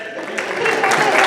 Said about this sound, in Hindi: अगर आप ठीक बैठे हैं तो तालियां हो जाए